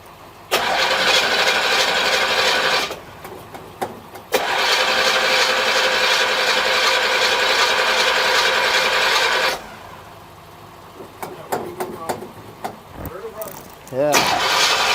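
A 1963 Chevrolet Impala engine cranks loud and close in two long bursts of several seconds each, then a third begins after a pause filled with clicks and brief voices.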